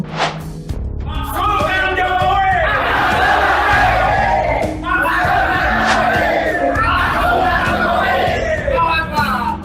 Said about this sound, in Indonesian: Teriak-teriak gitu ya, teriak-teriak maksudkan Jokowi.